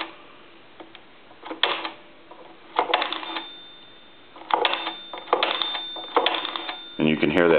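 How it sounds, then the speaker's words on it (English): The bell inside an A&E three-slot payphone tinkles faintly while a number is dialed, in short metallic bursts separated by dial clicks and brief pauses, ending in a denser ringing flutter. "And you can hear that bell tinkle a little bit."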